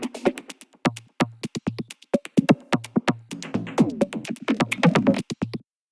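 Glitchy electronic percussion loop built in Ableton, with sharp, stuttering hits and clipped bursts in an irregular, chopped rhythm over short low thumps, loud and close with no talking.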